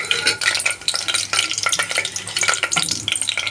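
Bay leaf and shahjeera crackle in hot oil in a pan as the base for egg biryani, stirred briskly with dense, rapid scraping and sizzling, close and fairly loud.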